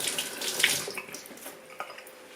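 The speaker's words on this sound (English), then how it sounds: "Let me wash my hands." Tap water runs into a kitchen sink as hands are washed under it, a close steady splashing stream lasting a couple of seconds.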